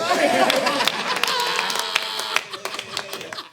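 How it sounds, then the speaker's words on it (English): Comedy roast crowd applauding and cheering for a comedian being brought on stage, a dense, continuous patter of clapping with voices mixed in, loud and close throughout before tapering slightly at the end. "Let's give him a hand."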